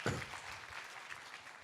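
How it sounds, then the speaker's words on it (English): A short burst of audience applause at a business event's welcome address, steady and fairly distant, with no voices over it. "please help me to give a big round of applause."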